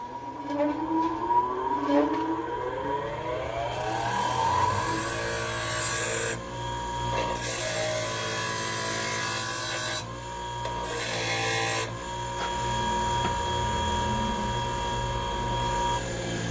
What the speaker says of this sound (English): now I have to grind the sides down on this washer to fit into that groove